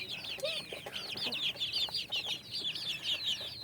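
Native free-range chickens kept with ducks on a small farm, clucking in a busy, overlapping series of calls at close range over a noisy background, with no talk.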